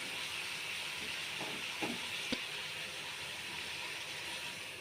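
Chicken liver curry simmering in a pot gives a steady, faint steamy hiss throughout, with a couple of brief soft clicks from the pan.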